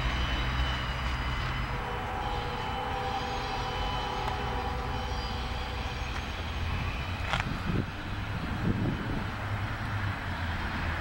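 A distant Norfolk Southern intermodal freight train in Austell, Georgia rumbles steadily in the background, a low continuous drone with a brief higher squeal partway through, no voices.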